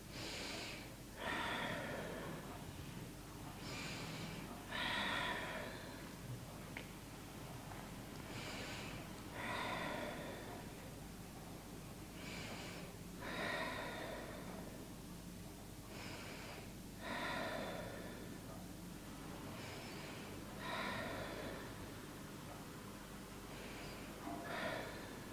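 Slow, deep breaths during a yoga practice, a steady rhythm of long inhales and exhales repeating about every few seconds, close and fairly soft with no talking.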